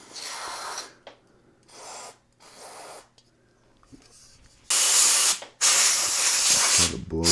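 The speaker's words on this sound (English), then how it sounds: "we want to take and blow some electronics cleaner in it" Electronics cleaner blown from a spray can into a noisy potentiometer: several short hissing bursts, then a long loud near spray ending in clatter.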